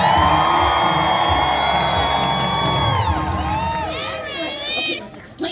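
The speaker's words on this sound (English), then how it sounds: "Folks, you're going to be cheering on Riley" A live audience at the Animal Actors show at Universal Studios Hollywood cheers for Riley the dog, with loud continuous crowd cheering, whoops and high shouts throughout.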